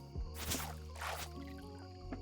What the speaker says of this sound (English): Did you all hear the water like go bloop?